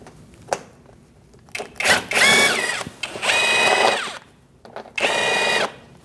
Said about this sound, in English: Using a 7mm socket, we're going to take out this little bolt.